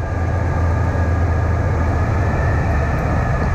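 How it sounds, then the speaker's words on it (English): A small airplane making a hard, bouncing landing produces a loud, continuous engine and wind roar with heavy low rumble, steady throughout and with no voices. "This was a pretty hard landing."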